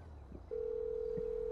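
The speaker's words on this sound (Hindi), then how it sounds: "मैकेनिक को फ़ोन करना होगा ना इसके लिए" A phone dialing out to call the mechanic in GTA Online: one steady electronic tone lasting about a second, clear and alone over a faint background hum.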